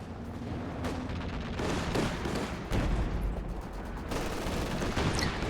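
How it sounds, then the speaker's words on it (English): Artillery barrage pounding a capture point in a World War II strategy game, a dense continuous rumble of overlapping explosions and booms with sharper blasts at intervals, loud and sustained throughout. "The bunker busted barrage here."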